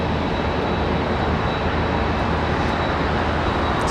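Southwest Airlines jet taxiing at Charlotte Douglas International Airport, a steady loud engine roar and rushing hiss that holds without a break, with no voices over it.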